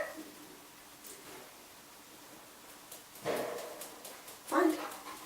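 Dog during home scent-training practice gives a couple of soft, brief yips and whimpers from a short distance in a quiet room, with long near-silent gaps between them.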